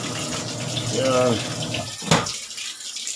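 Water runs steadily from a tap during home laundry washing, a continuous splashing hiss with people talking over it throughout.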